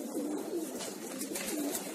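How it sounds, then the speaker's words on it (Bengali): Giribaz pigeons kept in built cages give repeated low coos, several soft calls in a row over a constant ambient hiss. "সবই গ্রিবাস কবুতর।"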